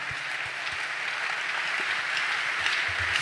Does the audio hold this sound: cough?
no